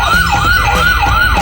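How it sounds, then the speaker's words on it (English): A toy fire truck siren wails in a fast repeating rise-and-fall cycle, loud and close, about three cycles with no talking. "This is a fire truck."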